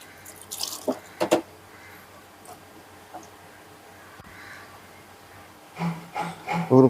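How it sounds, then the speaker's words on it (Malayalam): Water is poured into a cooking pot while making Kottayam-style milk tapioca, heard as two short splashing, trickling bursts, one early and one at the end, separated by a quiet stretch with faint drips. "ഒരു അരച്ചരുവത്തിനകത്തോളം വെള്ളം ഒഴിക്കുന്നുണ്ട്"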